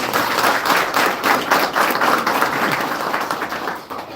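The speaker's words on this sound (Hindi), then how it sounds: "उनके लिए जोरदार तालियां।" Loud, close audience clapping at a live awareness program in India, dense and rhythmic with slight pulsing, tapering off toward the end.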